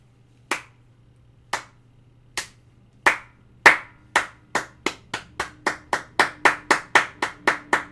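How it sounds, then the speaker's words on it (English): Slow hand claps that start widely spaced, then gradually speed up into a steady, quicker rhythm, loud and close with no voices. "I stand up and I do the slow, dramatic Hollywood movie clap"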